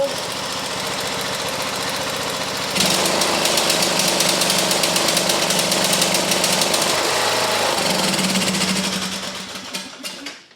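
A small engine with a disconnected kill wire runs with a steady, buzzing drone. It rises a notch, holds, then slows and winds down to a stop at the end.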